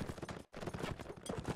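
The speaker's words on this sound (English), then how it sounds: "Wily Sly on a horse." Horse hooves gallop in a video game, a quick, rapid clatter of hoofbeats running under a busy layer of battle noise, with one short gap partway through.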